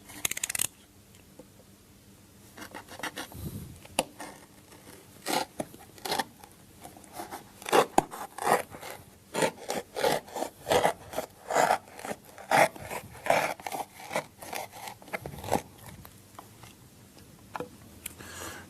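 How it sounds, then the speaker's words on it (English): Cardboard box marked up for a children's magic prop being cut along two edges, giving a series of short scissor-like snips and scraping cuts of varying loudness close by, with no talking. "I'm now going to cut through these 2 edges"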